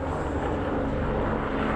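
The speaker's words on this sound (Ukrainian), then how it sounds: "наді мною вертоліт прилетів" A helicopter passes overhead in Spain, a steady, droning engine roar that stays level and fairly loud throughout with no breaks.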